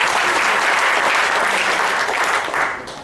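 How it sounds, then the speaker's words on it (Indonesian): Loud, dense applause from a seminar audience, a thick continuous roar of clapping that holds steady, then thins and fades out near the end. "Tepuk tangan paling meriah untuk kita."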